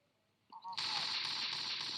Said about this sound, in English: Boy, that's some loud, serious gunfire.